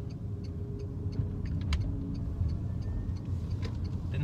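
A car pulls away from a stop during a driving test in Tallaght, its engine a steady low hum under a faint repeating indicator tick, heard from inside the cabin at moderate, even loudness.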